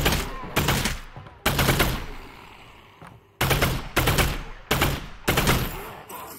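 Rapid bursts of video game gunfire fill the space, loud broadband volleys in several clusters with brief pauses between them and no talk over them.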